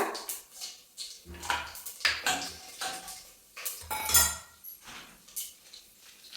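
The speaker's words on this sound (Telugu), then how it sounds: "ఇప్పుడు వన్ టేబుల్ స్పూన్ జీలకర్ర వేస్తున్నాను" A tablespoon of cumin seeds goes into a cooking pan for tempering a methi dal dish, with clinking and scraping of a spoon against the pan in uneven bursts, close and fairly quiet.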